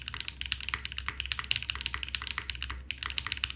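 Fast, steady typing on a KBDFan KBD8X mechanical keyboard with foam added to damp slight resonance, close crisp clacks in a continuous rapid rhythm, played alone.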